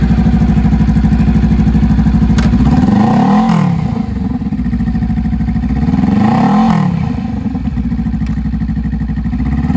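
A used 2018 Honda Rebel 500 cruiser with a twin-cylinder engine idles loudly and close by with a deep, lumpy throb, rising into two brief revs before settling back to idle each time.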